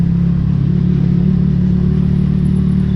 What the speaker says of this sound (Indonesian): naik motor pinjaman sama yang si R15 biru ini